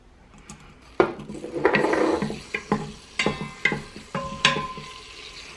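Garlic and onions sauteing in oil in an Instant Pot for chicken arroz caldo, with a soft sizzle under repeated scraping and knocking of a utensil against the pot in a steady series of sharp strokes.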